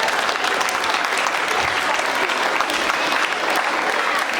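At a school ceremony, an audience applauds in a dense, steady wash of clapping that holds at an even level throughout.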